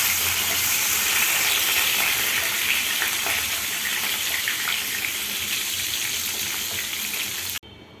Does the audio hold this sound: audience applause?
no